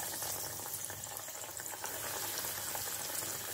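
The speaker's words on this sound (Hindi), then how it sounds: "फ्राई कर लेती हूँ।" Breadcrumb-coated potato nuggets bubble and hiss in hot oil, a steady, fairly faint deep-frying fizz with no talking.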